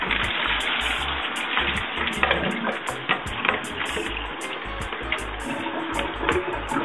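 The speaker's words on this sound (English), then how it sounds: "Drain the onions carefully." Water gushing and splashing steadily, as when draining onions for a Genovese pasta sauce, a continuous close rush of liquid with no voices.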